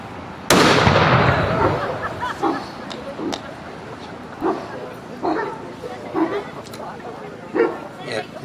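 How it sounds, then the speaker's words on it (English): A ceremonial rifle volley fired at a Veteran's Day ceremony in Groton, Massachusetts: one sharp, loud crack followed by a dog barking and yipping repeatedly nearby, with people talking in the background. "And Richard, you are firing for all members of the armed forces currently serving"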